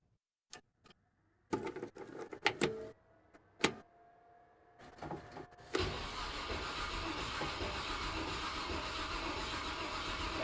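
A station wagon that has sat unused for a couple of weeks cranks through several short starter bursts separated by pauses, then catches and settles into a steady running engine, heard close with no talking.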